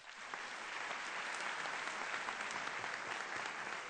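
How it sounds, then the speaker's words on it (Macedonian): Hall audience at the Fabrika na znaenje finale in the Universal Hall claps for Team B, a continuous, even patter of many hands heard faintly from a distance. "Пошто грото аплаузот гарант ќе оди за групата Б"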